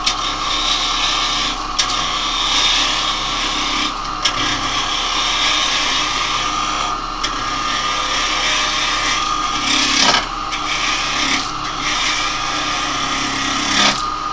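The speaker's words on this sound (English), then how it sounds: "If you're going to do it with the bowl gouge, close it, roll it, get on the bevel and come round." Wood lathe turning a bowl with a bowl gouge for a Halloween piece, giving a steady, loud scraping hiss of tool on spinning wood with brief breaks and rhythmic passes throughout.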